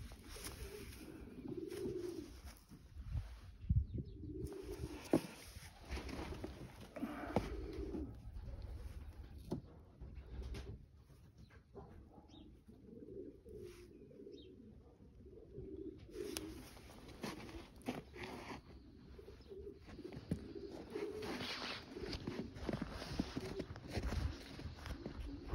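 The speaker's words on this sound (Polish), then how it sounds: "To jest gołąb Vandenburg, kitel razy kitel, samiczka na pewno." A female Vandenburg pigeon coos in repeated low, throaty bursts near at hand, with shuffling footsteps and handling noise between calls and quieter stretches.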